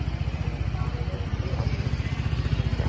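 A Yamaha Fino 125i scooter with a Blue Core engine, a modified clutch and a replaced air filter, runs steadily nearby with a low, even pulsing throb and no talk over it.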